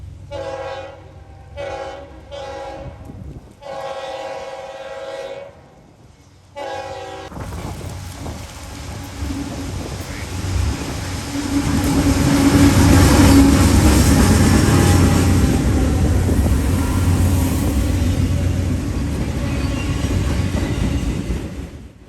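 Northbound freight train M204 led by a pair of AC44 locomotives on the B&O line, sounding several loud two-tone horn blasts before rumbling and roaring past close by with steady rolling wheel noise.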